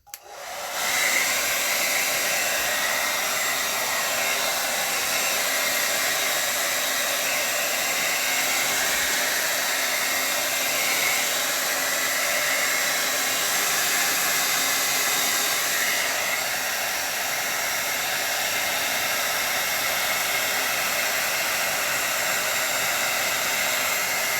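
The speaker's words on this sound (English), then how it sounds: "I'm going to do a quick dry off, so I have the blow dry here" A hair dryer blows steadily and loudly for the whole stretch, drying a watercolor painting of a river bend, a continuous close whoosh with no talk over it.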